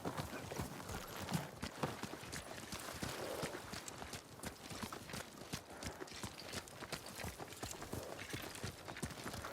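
Horses ridden by a group of samurai in Ghost of Tsushima, hooves clip-clopping in a steady, continuous rhythm at close range throughout, with no other sound competing.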